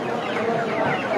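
Chickens cluck in a busy market, a steady layer of close, scratchy fowl calls with a faint bustle behind them.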